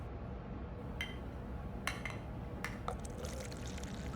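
Fresh water is poured into a glass in a quiet room, a soft continuous trickle with a few small clinks against the glass, heard close up and gentle. No one speaks.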